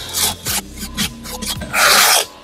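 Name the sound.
rubbing mortar over a brick wall corner post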